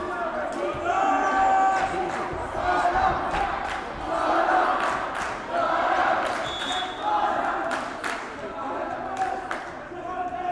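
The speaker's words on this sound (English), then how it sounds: "Crowd has finally got in it." Spectators at a boys' high school volleyball playoff match cheer and shout in loud surging bursts, with squeaks and game sounds scattered throughout.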